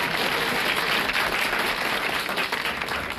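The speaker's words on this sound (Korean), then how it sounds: "박수!" An audience breaks into dense, sustained applause, loud and continuous throughout with many hands blending together.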